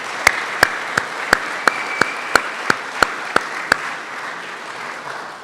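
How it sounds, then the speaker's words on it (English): At a Georgia Tennis Hall of Fame ceremony, an audience applauds the event's producer. Steady, dense clapping fills the room, with one loud, evenly paced clap close by that stops after about four seconds while the crowd's applause carries on. "Give her a round of applause."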